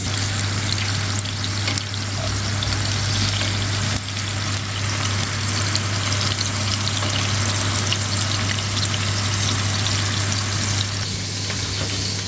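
Seekh kababs fry in a pan for a masala handi gravy, giving a loud, steady sizzle and crackle that holds throughout with a constant low hum beneath and no talk.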